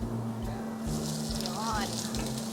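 An air fryer runs with a steady, fairly loud whooshing hiss over a low electrical hum, cooking marinated chicken, with faint kitchen noises underneath.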